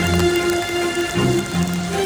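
Steady rain falls during a college short film shoot, a continuous soft patter with a faint tonal hum underneath, close and unbroken throughout.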